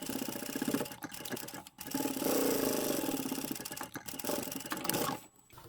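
A sewing machine hums and rattles as it stitches fabric for a simple tote handbag with an internal pocket. It runs in steady bursts with a few short pauses and a final stop near the end.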